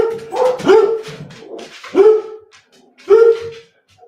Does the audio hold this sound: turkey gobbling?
no